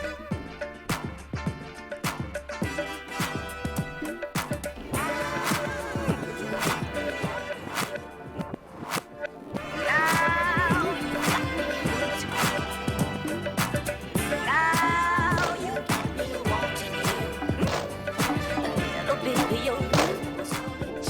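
A reversed sample loops on an Octatrack mk2 sampler in a live performance setup. The music is dense and continuous, with sharp percussive hits, and it grows louder and fuller about halfway through.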